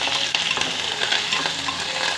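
Onions, green chillies and curry leaves frying in hot oil give a close, crackling sizzle broken by quick spatula stirs and scrapes.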